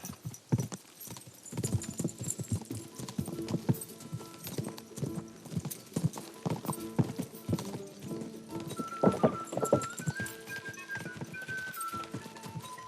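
Galloping horse hooves racing along in Kingdom Come: Deliverance 2, a steady, close, rhythmic drumming of hoofbeats that continues throughout, with a faint whinny among the game sounds.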